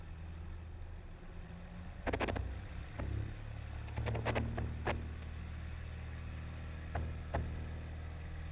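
An old V-tail airplane's engine hums at high propeller RPM before takeoff, a faint steady drone broken by several short clicks and knocks, with no one speaking.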